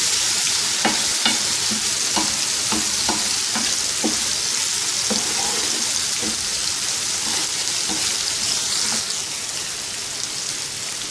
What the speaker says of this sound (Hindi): इसके अंदर स्पाइसेस शामिल करेंगे, chilli flakes, salt, turmeric powder और इसको हल्का सा भून लेंगे।